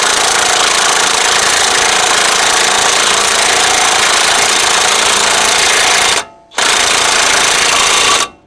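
A loud, continuous, rapid hammering rattle from an impact wrench seating a wheel stud on a GMT 400 truck, running steadily with one brief pause before it resumes and stops.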